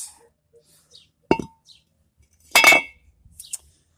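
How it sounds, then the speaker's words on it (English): A front brake rotor comes off the hub of a 2004 Chevrolet Silverado during a wheel bearing replacement: a sharp metallic clank, then a louder ringing scrape of metal, in an otherwise quiet space. "now that rotor comes off just like that"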